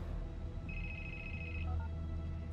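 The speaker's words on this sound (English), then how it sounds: "Put your phone on vibrate." A phone rings in the stealth game Hitman 3, a short electronic ringtone with a sustained tone followed by a few quick chirps, sitting over a loud, busy background.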